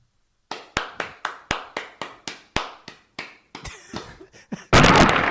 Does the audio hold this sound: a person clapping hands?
yes